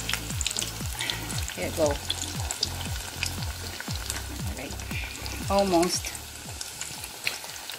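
A salmon fish head fries in a pan, turning brown, with a dense close sizzle and crackle throughout, occasional stirring scrapes, and a few brief spoken words over it.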